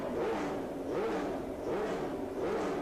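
A Pro Comp drag bike roars through its run at a 1986 IDBA Firecracker Nationals drag race, a loud, sustained engine note rising and falling in repeated surges across the clip.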